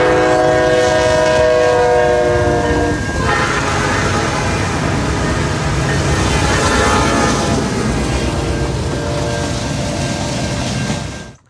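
A loud P5 locomotive air horn sounds in sustained multi-tone blasts for a few seconds, then the heavy rumble and clatter of a passing train continues.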